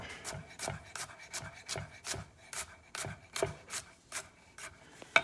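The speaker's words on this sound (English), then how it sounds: "I'm going to mince the garlic" Quick, steady knife strokes mincing garlic on a cutting board, a regular rhythm of light taps close by with no talking.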